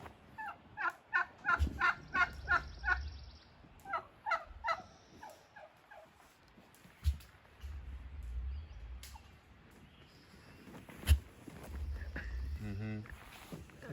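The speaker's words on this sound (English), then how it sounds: "Turkeys have all of these different vocalizations, just like people." Turkeys gobble in rapid bursts and give other varied calls at close range, with low rumbling noise underneath and a person talking intermittently between the calls.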